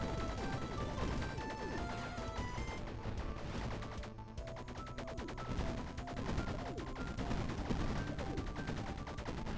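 Rapid pistol gunfire in the fast-paced video game Bleed, a steady stream of sharp shots and impacts running under energetic game music throughout.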